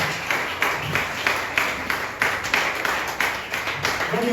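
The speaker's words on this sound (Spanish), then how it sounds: "Den un aplauso al Rey de Reyes, el Señor de Señores." Church congregation clapping together at a Sunday morning service, a steady dense applause with rhythmic peaks running throughout, fairly close and moderately loud.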